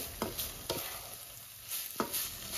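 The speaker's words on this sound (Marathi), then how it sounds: "फूड कलर टाकून मी आता हे मिश्रण पुन्हा एकदा व्यवस्थित असं मिक्स करून घेणार आहे" A rasmalai modak mixture with yellow food colour being stirred, a few soft scraping strokes of a spoon in a pan at a slow irregular pace against a faint background hiss.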